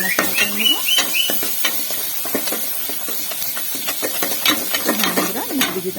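Spices such as chili, turmeric and cumin powder are stirred through a cooking pan, giving a steady run of scraping and stirring strokes over a soft sizzle, with brief voice-like sounds mixed in.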